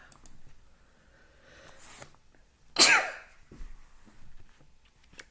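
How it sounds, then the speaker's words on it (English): A person sneezes once, a sharp, loud burst in the middle of an otherwise quiet stretch, with faint rustling and small noises before and after. "I knew it could be one of those days I can't stop sneezing."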